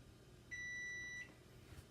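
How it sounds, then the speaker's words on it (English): A single electronic beep from an oven timer, a steady high tone lasting under a second against a quiet room hum. "Timer's up."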